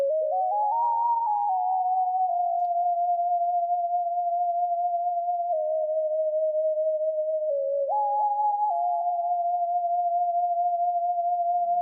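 A clean, pure-toned synth lead from a free VST plugin plays sustained notes with quick sliding pitch steps, loud and alone with no other instruments.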